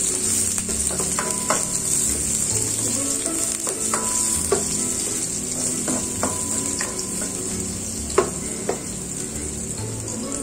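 Garlic frying in a pan as the base for squid adobo in coconut milk, a steady loud sizzle with a few scattered clicks and spatula taps, no talking.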